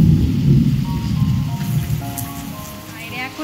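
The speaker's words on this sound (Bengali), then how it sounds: "এখন যেরকম জোরে মেঘ ডাকছে সেরকম জোরে বৃষ্টি পড়ছে" Heavy rain pouring steadily outdoors during a thunderstorm, a dense, loud wash of rainfall with a low rumble of thunder underneath, no voices heard.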